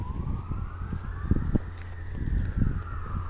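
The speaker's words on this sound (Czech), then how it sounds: "myslím, to byla sanitka." An ambulance siren wails past on a road in Karviná during a fluid-spill call, its tone sweeping up and down over rumbling traffic and engine noise.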